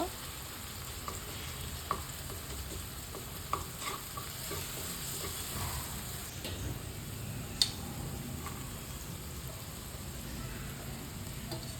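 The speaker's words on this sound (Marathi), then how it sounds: "आता आपण ह्याच्यात चुरमा टाकलेला आहे चांगला हलवून घ्यायचा आहे" Crumbled bhakri churma is tossed in a pan with onion-garlic masala, kitchen king masala, sabzi masala, turmeric and hing. A quiet, steady frying hiss runs throughout, broken by faint, scattered scrapes and ticks of stirring, with no speech.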